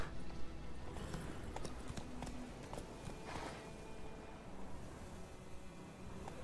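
Horse galloping in the video game The Witcher 3: a steady, rapid clip-clop of hooves over a continuous outdoor ambience, moderately loud and close.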